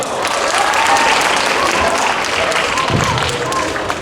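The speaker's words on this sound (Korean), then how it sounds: "박수 주세요." Audience applause at a Korean high school research presentation, dense sustained clapping from a room full of students throughout, with a dull thump partway through.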